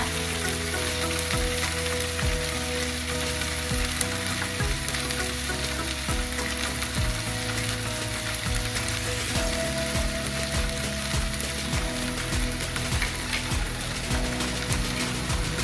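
Grilled chicken sizzles steadily as butter and soy sauce are brushed on, a continuous close frying hiss with faint scraping and clinks underneath, no talk.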